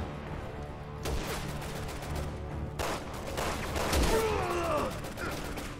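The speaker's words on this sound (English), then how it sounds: "Sniping with a pistol." Pistol shots in the video game Resident Evil 6, a few sharp reports spaced across a busy game soundscape with rumbling background, alongside other combat noise.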